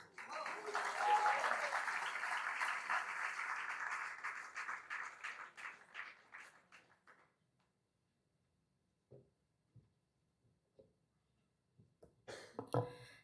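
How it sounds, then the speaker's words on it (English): Graduation ceremony audience applauding the valedictorians, a broad wash of clapping that swells for several seconds and then fades out, leaving near silence broken by a few scattered coughs and small noises. "Let's give one more big round of applause for our valedictorians."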